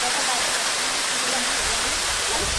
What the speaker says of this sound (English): We're going to go and check out Klong Chau waterfall, which is the closest one